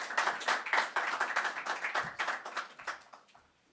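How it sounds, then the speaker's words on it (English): Warm applause from an audience at a Davos gathering, many hands clapping in a steady, dense patter that fades out toward the end, with no talk over it. "Can I ask just for a warm round of applause for him"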